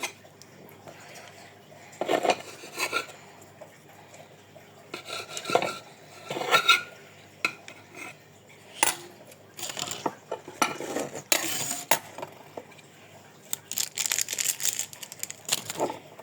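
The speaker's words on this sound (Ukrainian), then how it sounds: "нарізаємо крабові палички" A knife cutting crab sticks for a herb salad, irregular clicks and taps on a board with light crinkling and clattering of kitchen items, close, with pauses between cuts.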